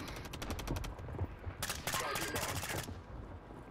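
Rapid automatic gunfire crackles in Call of Duty: Modern Warfare III, quick rhythmic bursts of shots at moderate distance, one longer dense volley in the middle, with faint voices underneath.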